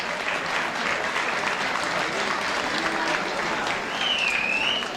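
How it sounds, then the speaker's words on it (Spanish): A festival crowd gives a sustained round of applause, dense and steady for several seconds, during a town fiesta proclamation in Madrigal de la Vera. "un aplauso porque es paisana vuestra"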